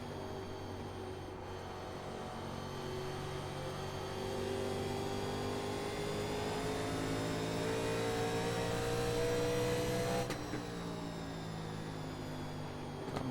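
Engine of a 1987 NASCAR Legends stock car lapping the Iowa oval in the iRacing sim, a sustained harmonic drone that slowly rises in pitch, then briefly shifts before settling again, with no talking.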